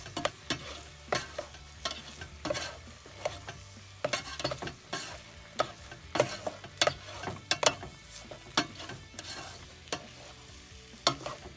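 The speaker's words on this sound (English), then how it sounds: "We're gonna mix the grease and the fat from the pork with the flour so we can thicken it up there." A utensil stirs pork grease and flour in a cast-iron Dutch oven, making repeated scraping strokes against the pot over a soft background sizzle. The strokes are close, irregular and quiet, with no talking.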